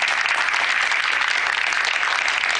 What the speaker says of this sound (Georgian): ტაში